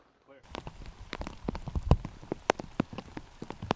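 Heavy pouring rain drums steadily on surfaces at a disc golf tournament round, a dense close patter of drops with sharper splashes throughout, no voices heard.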